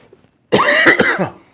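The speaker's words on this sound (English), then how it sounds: "Coughing into the microphone." A single harsh cough bursts out close to a microphone after a moment of quiet, with a couple of rough pulses.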